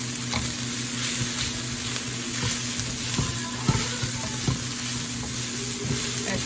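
Fried rice sizzles steadily in a pan being stirred with one hand, a continuous hiss punctuated by scraping knocks of the utensil, close and fairly loud with no talking.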